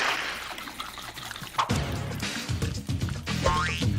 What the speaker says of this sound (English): And then you start shaking it.